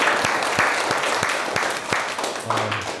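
Audience applause for Borko Petrović, a teacher honoured as the world's best, on a TV talk show: dense clapping throughout, with sharper individual claps standing out. A low tone enters near the end.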